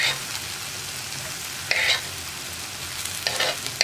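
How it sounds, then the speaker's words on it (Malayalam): Chinese potato (koorka) and egg stir-fry in a hot pan, giving a soft, steady sizzle with a couple of brief louder bursts of stirring and scraping, fairly quiet and with no talk. "ചട്ടി നല്ല ചൂടായതുകൊണ്ടാണ് ഞാൻ കുറച്ച് കുറച്ചായിട്ട് ചേർക്കുന്നത്."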